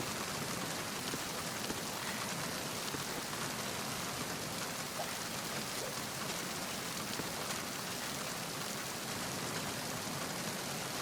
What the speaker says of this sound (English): isn't the rain convenient right now?